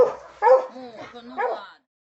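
A dog gives a few short barks and whimpering yelps in quick bursts, close and fairly clear, mixed with a person's voice, then falls silent.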